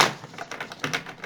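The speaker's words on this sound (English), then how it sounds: "It's going to be a long shuffle." A deck of tarot cards being shuffled at length, heard up close as a quick, uneven patter of soft papery taps and riffles with no voices.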